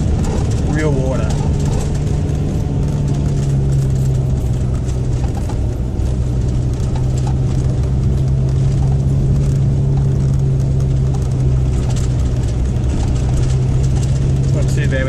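A van's engine drones steadily as it brakes down a long hill in third gear, a low, constant rumble throughout with faint road noise and occasional speech.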